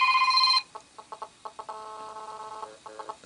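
Radiation ringtone on a Samsung Galaxy Nexus phone, mimicking GSM phone interference near a speaker: after the end of a ringing burst, choppy stuttering electronic pulses and a sustained buzzing chirp in irregular rhythm, moderately loud.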